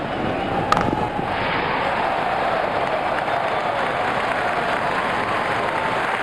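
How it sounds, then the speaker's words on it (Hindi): Stadium crowd applause in a cricket video game after a century, a dense continuous wash of clapping and cheering at steady loudness throughout, with no talk over it. "तालियों की आवाज पूरे स्टेडियम में गूंजती हुई"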